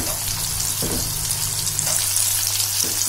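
Jackfruit pieces fry in hot oil for a biryani, giving a steady dense crackling sizzle up close, with a few soft stirring scrapes and no talking.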